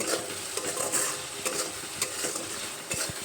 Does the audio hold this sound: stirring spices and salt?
yes